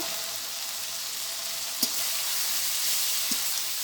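Spices sauté in a pan for a fish curry, making a continuous hissing sizzle at close range, broken by two brief knocks from a utensil.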